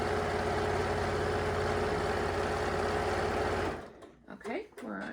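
A sewing machine stitching a pillowcase seam hums in a steady fast whir, close and continuous for several seconds before stopping abruptly, followed by someone speaking.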